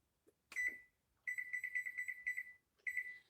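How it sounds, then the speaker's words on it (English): A kitchen timer being set while making Christmas crack candy gives a quick beep, then a run of about ten rapid, clear electronic beeps and one more short beep at the end, close and loud with no talk. "Let me set my timer."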